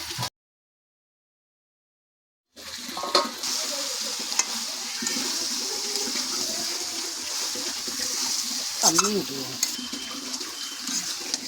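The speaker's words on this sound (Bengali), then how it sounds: "এবার একসঙ্গে ভালো করে কষিয়ে নেব একটু" Jackfruit and prawn curry sautéed and stirred in a pan, with a steady close sizzle and scraping after a brief silence, plus a couple of sharper clatters near the end.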